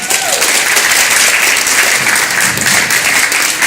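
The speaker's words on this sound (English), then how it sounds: "So let's give them a big round of applause." Loud, dense applause from an awards ceremony audience, the HCI Awards Program 2018, steady and sustained for several seconds with no talk over it.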